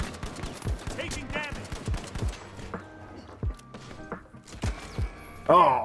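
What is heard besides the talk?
gunfire in the video game The Finals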